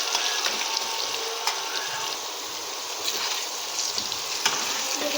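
Potato slices frying in a pan crackle and sizzle steadily, with sharp pops and stirring clicks scattered across a bright, continuous hiss.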